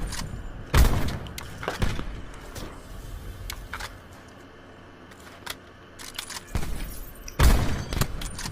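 Sniper rifle fire in a video game: heavy booming shots open and close the stretch, with smaller thuds and rattles between and a quieter lull in the middle.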